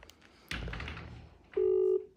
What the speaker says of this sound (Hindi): जोगिंदर भाई फोन तो उठा लो ब्रो